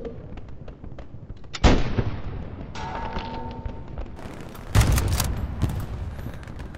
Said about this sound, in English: I missed my shot and hit the guy that was behind him in the head